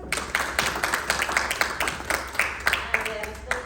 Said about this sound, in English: Round of applause for her